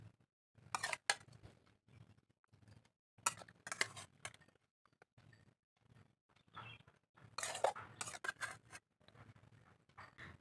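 Prawn curry is served onto a plate, with quiet, scattered clinks and scrapes of a metal spoon against dishware. The bursts come in short irregular clusters separated by near silence.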